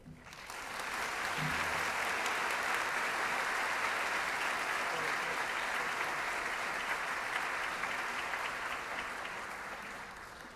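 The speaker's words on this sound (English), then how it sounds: "Please give yourselves a huge round of applause" A graduation audience bursts into sustained applause at a health science university ceremony, dense even clapping from a large crowd that swells within a second and holds steady for about ten seconds.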